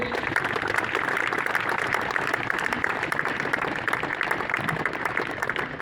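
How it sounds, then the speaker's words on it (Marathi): An audience claps together at a public stage demonstration, a dense, steady patter of many hands lasting several seconds at even loudness. "जरा टाळ्या वाजवा भाऊंसाठी."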